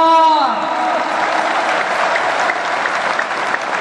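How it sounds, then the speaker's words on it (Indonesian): A crowd at a May Day labor rally applauds honorary teachers, a dense sustained wash of clapping that follows a brief trailing voice and continues steadily to the end. "ayo beri aplaus buat guru honor"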